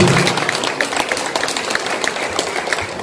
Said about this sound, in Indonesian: Mari kita applause dan tepuk tangan untuk beliau.